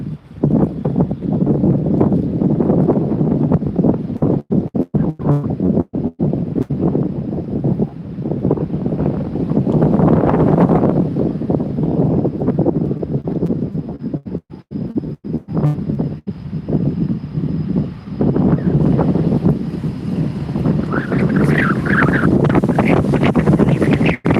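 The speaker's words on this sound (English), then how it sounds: "we're going to jump back out in the wind here" Heavy wind buffets a handheld microphone on a walk outdoors in Raleigh, a loud continuous roar with gusting rumble that swells and drops throughout, no voices present.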